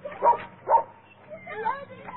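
A dog gives two quick barks followed by softer yips and whimpering sounds, fairly faint and close together.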